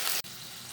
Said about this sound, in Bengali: কষানো হয়ে গেছে, এখন দিয়ে দেব জল।